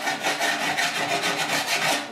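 A hand file rasps across welds on a severely rusted 1969 C10 core support, in quick, steady back-and-forth strokes that stay close and even throughout, with no voices.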